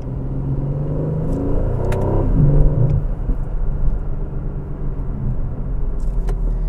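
A 2020 Aston Martin DB11 Volante V8 on a test drive gives a steady, close engine rumble and road roar, swelling briefly as it accelerates with a light whir, and no talking.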